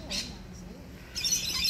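A bird calls outdoors by the sea at Balls Head, New South Wales, Australia, giving two short bursts of chirps, one near the start and another toward the end, heard over a low steady background.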